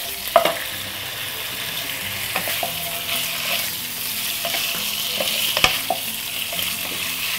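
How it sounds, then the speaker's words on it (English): Pork pieces browning in hot oil in a pan, shuffled about with a couple of spoons: a continuous loud sizzle punctuated by occasional metallic scrapes and clicks, near and without speech. "put your pork bits in. And you're just going to brown these off."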